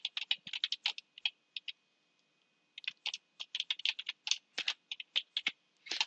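Someone types on a computer keyboard entering a name on a presentation slide, with close, quick clicking keystrokes in uneven bursts, a brief pause in the middle, and no speech.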